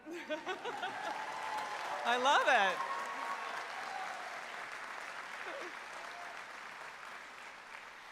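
Audience clapping at a university pharmacy commencement ceremony, a steady wash of applause throughout with a voice briefly speaking over it.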